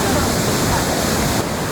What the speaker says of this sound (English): the first stop is some random waterfall we've never heard of.